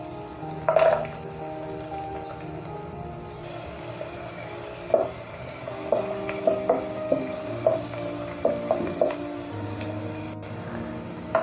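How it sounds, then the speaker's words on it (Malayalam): Raisins and cashews frying in hot ghee in a pan for banana-rice flakes payasam, with quiet sizzling and a series of soft crackles and pops as they are stirred. "നെയ്യ് ചൂടായി വന്നു കഴിഞ്ഞാൽ നമുക്കതിലേക്ക് റൈസിൻസും കാഷ്യൂസും ഇട്ട്"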